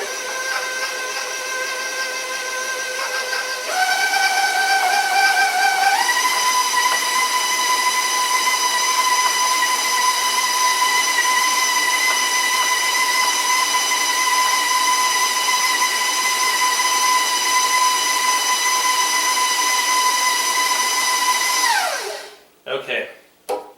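An electric mixer beats Toll House cookie dough with vanilla, a loud continuous whine that steps up in speed twice early on, holds steady, then winds down and stops with a few clunks at the end.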